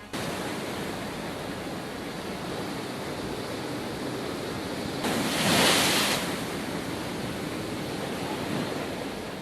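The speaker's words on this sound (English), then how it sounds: "Storm-driven waves from Cyclone Gulab slam into the coastline" Heavy storm surf driven by Cyclone Gulab roars steadily against the coastline, with one louder wave crashing and washing through midway, mixed with gusty wind noise.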